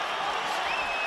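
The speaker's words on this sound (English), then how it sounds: "And the crowd stands and cheers Roy Jones." A boxing crowd on its feet cheering Roy Jones Jr. at his 2003 fight against John Ruiz, a brief, steady, broad roar with a faint whistle riding over it.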